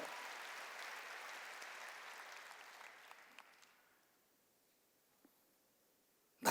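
Church congregation clapping, a dense burst of applause that starts loud and gradually fades out over a few seconds, leaving near silence before a sharp sound at the very end.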